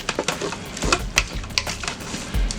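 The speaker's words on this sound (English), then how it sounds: "We're gonna mix that up real good." Spoon stirring and scraping ground beef, pork and minced garlic in a pot, a run of irregular clinks and scrapes, close and moderately loud, with no talking.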